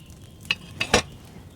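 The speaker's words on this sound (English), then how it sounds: "Hear that bubbling? It's boiling." A boiling cauldron in the video game Kingdom Come Deliverance II gives off a few soft bubbling pops, three short bursts close together against a quiet background, with no voices.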